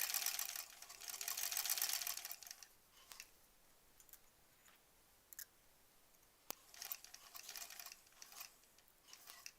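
A home sewing machine stitches fabric pieces for a stuffed bunny toy, with a loud dense burst of rapid stitching at the start, then quieter pauses with small clicks and a second, softer run of stitching near the end.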